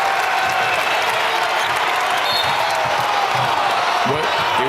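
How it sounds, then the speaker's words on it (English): Arena crowd at a college basketball game, PC versus Stony Brook, cheering and applauding in a steady dense roar for the whole stretch, with a broadcast voice faintly underneath. "You hear the crowd getting into the game."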